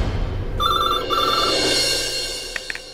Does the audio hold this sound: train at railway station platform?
no